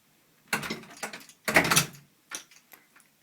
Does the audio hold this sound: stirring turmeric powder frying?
no